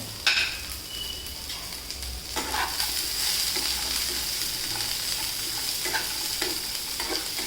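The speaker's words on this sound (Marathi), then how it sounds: "सात आठ मिरच्या घेतल्यात मी हिरव्या पण त्याचे तुकडे केल्यात कारण अख्खीची अख्खी मिरची जर तेलात टाकली तर ती उडते" Green chilli pieces, ginger and garlic roasting in hot oil for stuffed capsicum give a steady, close sizzle throughout, with occasional stirring scrapes and no voices.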